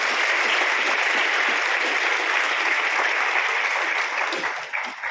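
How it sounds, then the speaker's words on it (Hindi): Dense, sustained applause from a large crowd at a Republic Day ceremony, loud and continuous throughout, easing slightly near the end. "जोरदार ताली के बीच"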